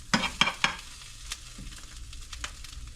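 Food in a pan for an Italian breakfast sandwich, flipped with a few sharp scraping clatters near the start. A soft, steady sizzle continues under later light taps, close and moderately quiet.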